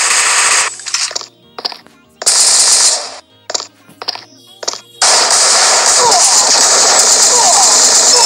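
Automatic gunfire in the shooter game Truy Kích, loud rapid bursts broken by short pauses, then a long continuous volley, with a voice speaking briefly between bursts.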